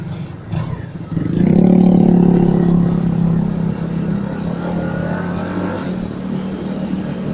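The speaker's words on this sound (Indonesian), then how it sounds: "Ini suaranya mirip-mirip kayak motor ya 200 cc biasa." A Benelli TNT 250 single-cylinder motorcycle revs up loud and close, holding a buzzy engine note that then settles into a lower, steadier idle-like drone.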